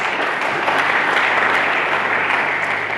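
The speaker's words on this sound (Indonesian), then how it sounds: "Berikan tepuk tangan bagi Yesus." A church congregation applauds during a sermon, a dense and steady wash of clapping that fills the whole stretch without pause.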